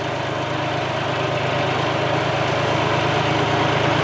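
A John Deere tractor ploughs a field, its engine holding a loud, steady, rumbling drone close by throughout, with no pauses.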